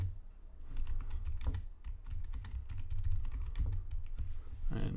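Fingers type steadily on a computer keyboard, close and clear, with quick irregular key clicks and brief pauses and no voice over them.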